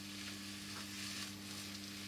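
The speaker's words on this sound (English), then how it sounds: "Okay, that's frying off quite nicely." Chicken and mushroom risotto frying in a pan after wine has been poured in, giving a steady, quiet, even sizzle with a faint background hum and no talking.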